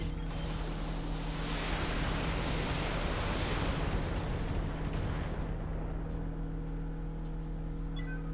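Mech weapons unloading at once in the video game Battletech, a dense sustained roar of firing and explosions that stays loud and continuous before thinning slightly near the end.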